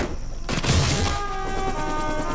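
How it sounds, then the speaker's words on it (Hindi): Heavy enemy gunfire erupts in a war scene from the Hindi-dubbed film Venky Mama, a dense, continuous barrage of shots and blasts rolling on without a break for a couple of seconds. "एनिमी की बहुत हैवी फायरिंग हो रही है सर"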